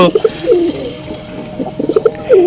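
Teddy pigeons coo in their coop, several soft rolling coos close by, repeating in short bursts over quiet background rustle.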